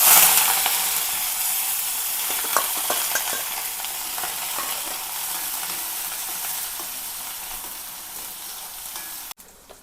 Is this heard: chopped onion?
yes